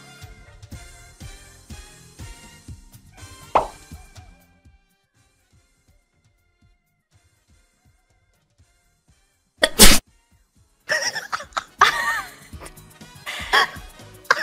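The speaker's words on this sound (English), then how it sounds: "Was that a real sneeze, though?" A single sudden sharp sneeze bursts out after a stretch of silence, followed by people laughing and chattering loudly; earlier there is voiced chatter before the quiet gap.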